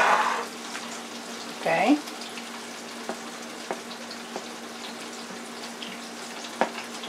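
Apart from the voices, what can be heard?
battered shrimp deep frying for tempura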